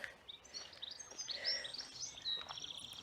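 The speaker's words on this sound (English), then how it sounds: "Listen to the birds." Faint birdsong with scattered high chirps and tweets, somewhat distant, over a quiet outdoor background in the gardens of Killerton House, Devon.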